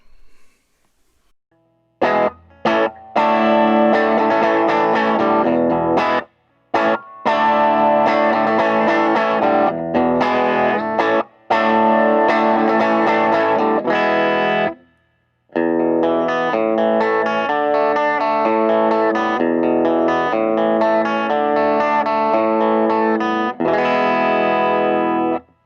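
Electric guitar played through a Fender Blues Junior amp with a Jensen P12Q speaker and a Tube Screamer, miked by a Shure SM57 at the edge of the speaker cone: loud, driven phrases and chords, broken by a few short pauses, with no talking.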